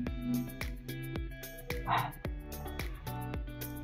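A dog barks repeatedly in short, sharp yaps at a steady rhythm, fairly faint and some distance off, outdoors beside a parked Yamaha FZ25 motorcycle.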